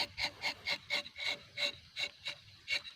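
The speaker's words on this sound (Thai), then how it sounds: "ตอกลินยางหรือว่าตอกท่อยางนะครับ" A latex spout being knocked into the bark of a rubber tree: about a dozen short, evenly spaced woody knocks with a scraping edge, close and fairly quiet, no talking.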